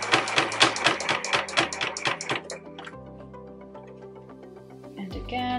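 A sewing machine stitches a fabric mason jar bag in short rapid bursts with pauses for repositioning, then settles into a steadier softer run near the mic.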